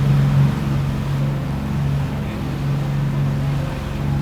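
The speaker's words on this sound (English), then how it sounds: "It's Chris's job to throttle the engines to the RPM I call out" Twin engines of a boat on a Sharrow Marine propeller sea trial held steady at 2,800 RPM, a continuous loud low drone with wind rush over it and no break.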